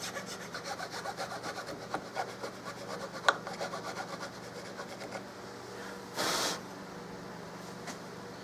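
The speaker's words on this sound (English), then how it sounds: "Maybe just cleaning this up and smoothing this on the inside, on top and bottom, is enough to do that." Hand-smoothing the inside of a Turkish walnut stock for a Carl Stiegele 16-gauge shotgun produces close, repeated scraping strokes in a steady rhythm, with one brief louder rub near the end.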